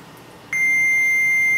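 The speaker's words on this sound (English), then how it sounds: "can you hear that? That means that there's continuity." Multimeter continuity tester touched to the bare cut end of an aluminum LED heat sink: after a brief quiet stretch, a loud, steady high electronic tone begins abruptly and holds, close by, with no talking.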